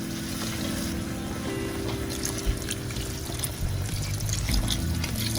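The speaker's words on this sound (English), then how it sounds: "And then to this, we're going to add some water." Water poured from a bottle into a pan for chicken stock in a home kitchen, a steady watery pour and trickle heard close up with no talking.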